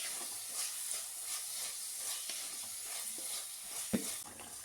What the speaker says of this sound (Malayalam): ഞാൻ ഏറ്റവും ലോ ഫ്ലെയിമിലിട്ടിട്ടാണ് ഇതെല്ലാം വഴറ്റിയെടുക്കുന്നത്